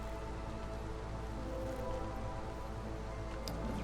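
Steady rain from a drizzle geyser in the video game Against the Storm patters softly and continuously, a faint even hiss with no voices over it.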